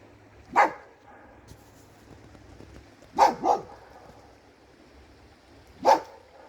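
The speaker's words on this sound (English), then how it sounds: "She's barking at ducks" A dog barks at ducks across a river, giving three loud, sharp bursts: a single bark, then a close double, then one more. Quiet outdoor background fills the gaps between them.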